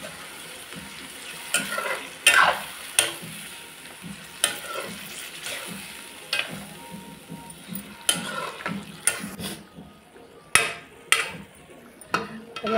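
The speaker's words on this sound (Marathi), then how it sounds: "तर या चांगलं ना आपण परतून घेऊया तेलात" Mutton sautéing in oil for a spicy Malvani-style curry: a close, crackling sizzle broken by repeated sharp scrapes and clinks of a spoon stirring against the pot at an uneven rhythm.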